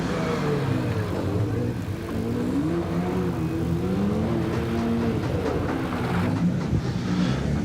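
A 2015 Porsche 911 Turbo 991.1 races up a hillclimb course, its engine heard at moderate distance, climbing and shifting through gears in a steady, continuous roar without speech.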